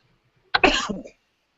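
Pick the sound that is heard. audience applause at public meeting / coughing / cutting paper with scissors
coughing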